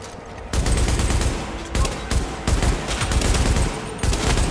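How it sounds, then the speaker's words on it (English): Rapid bursts of light machine gun fire from Tom Clancy's The Division, loud, dense and close, rattling almost continuously after a brief quiet start. "The recoil in this LMG is terrible"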